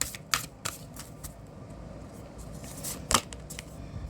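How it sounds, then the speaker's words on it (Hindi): Tarot cards shuffled by hand in several quick riffling bursts with sharp flicks, close and fairly quiet against a low room hiss, with no talking. "Last shuffle."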